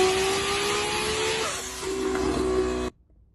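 Toyota Supra inline six engine revving loudly and close, a steady harmonic drone that climbs in pitch partway through, then cuts off abruptly into near silence.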